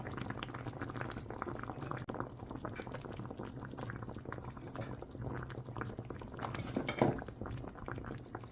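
Beef pasta sauce boils in a pot with onions and yellow, green and red peppers. A soft, continuous bubbling burble runs throughout at low volume, with a faint clink near the end.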